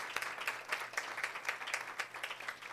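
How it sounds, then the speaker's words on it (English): Faint, steady clapping from a small audience at a community reading event, rhythmic individual claps heard at a distance with little else around. "I'd like to give another round of applause for all of the incredible women who have put themselves out there"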